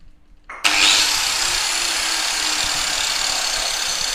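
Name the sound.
angle grinder with aggressive disc starting up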